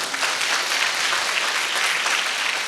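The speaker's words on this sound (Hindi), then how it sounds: "इसके लिए एक जोरदार ताली होना चाहिए।" An audience at a Hindi-language product and nutrition business event breaks into steady, dense applause, many hands clapping continuously and loudly with no one speaking over it.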